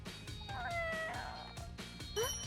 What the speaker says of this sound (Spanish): ¿Un gato?